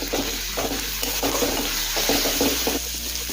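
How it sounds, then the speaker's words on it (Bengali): Ginger garlic paste frying with onions gives a loud, continuous sizzle up close, while repeated stirring strokes scrape through it at an uneven rhythm. "আদা রসুন বাটা পেঁয়াজের সাথে কিছুক্ষণ সময় নিয়ে একটু ভেজে নেব"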